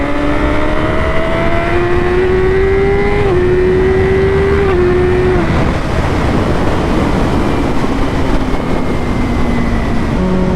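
Yamaha R6 motorcycle engine revving hard at high pitch, rising and dropping in steps through quick-shifter gear changes, loud and continuous with heavy wind rush throughout.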